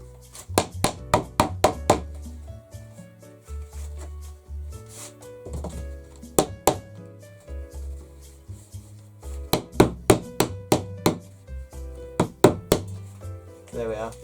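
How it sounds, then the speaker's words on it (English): Small cow hammer tapping staples into a painting's stretcher frame: bursts of sharp, close knocks in quick runs of two to five strikes, separated by pauses, with someone talking quietly between them. "This is a little hammer, little cow hammer."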